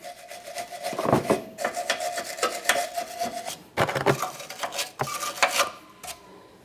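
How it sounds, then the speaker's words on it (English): A wire brush scrubs the front upper control arm mounting points on a 1999-2006 Chevrolet Silverado, making close, irregular bursts of harsh scraping strokes with brief pauses between them. "Use a wire brush to clean up the mounting points."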